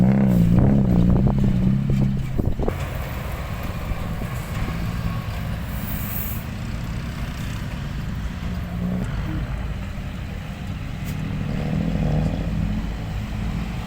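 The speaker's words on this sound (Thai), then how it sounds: "แต่ละคันนี่เสียงท่อดังลั่นเลยครับ" Loud, continuous engine roar from several cars and motorbikes racing close by, with revving exhausts that swell and fade and no talking.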